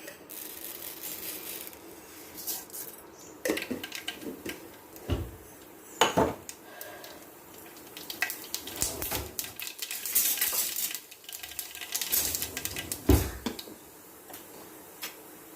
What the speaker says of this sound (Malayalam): നമ്മുടെ എണ്ണ നന്നായിട്ട് ചൂടായിട്ടുണ്ട് നമുക്ക് കടുക് ഇട്ട് കൊടുക്കാം